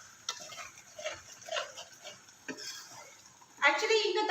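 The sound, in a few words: tomatoes with masala cooking and being stirred in a pan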